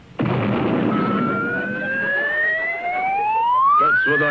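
A cartoon fire-engine siren for a small-town volunteer fire department wails loud and alone, starting abruptly and rising steadily in pitch over several seconds.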